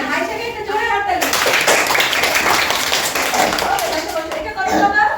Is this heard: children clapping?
yes